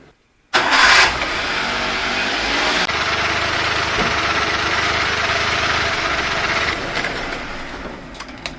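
A minitruck engine fitted with a modified airbox intake starts up abruptly and then runs at a steady, loud drone near the microphone, revved and held with little change in pitch before easing off near the end.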